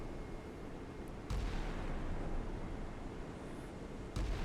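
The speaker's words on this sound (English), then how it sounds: "Salvo fire." Naval salvo fire from a New Zealand Navy warship in the Sea Power missile-age combat game: two heavy, booming launches a few seconds apart over a steady roaring background.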